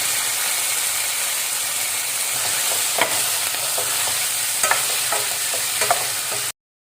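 Drumstick pieces fry in a pan for a beerakaya mulakkada curry, with a steady bright sizzle and a few soft scraping stirs near the end before it cuts off abruptly, no voices.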